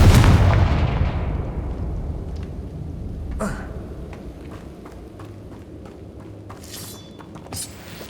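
A Confringo fire spell explodes in the video game Hogwarts Legacy, a loud booming blast that rolls away into a long fading rumble, followed by scattered faint crackles and small impacts.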